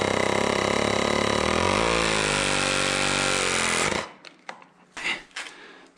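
A Vevor compact ProPress tool crimps a pipe with a loud, steady motorized whine that strains and shifts pitch for about four seconds, then cuts off, followed by faint handling clicks and knocks.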